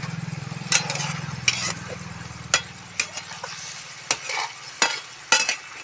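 Manchurian balls frying in a pan, a low bubbling sizzle running under sharp, irregular clinks and scrapes of a utensil stirring them, close and moderately loud.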